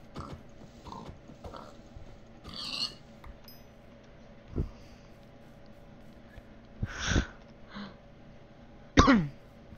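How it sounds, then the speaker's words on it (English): A few scattered coughs and throat-clearing sounds, close and fairly loud, over a quiet background of faint mechanical clicks. "Just coughing."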